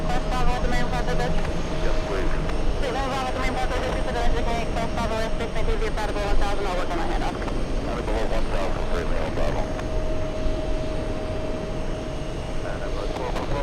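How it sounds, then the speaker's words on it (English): A British Airways jet arriving at JFK from London Heathrow, its engine noise a steady loud roar running throughout beside a sustained whine, with people talking over it nearby. "Speedbird 113 flying in from London's Heathrow, arriving"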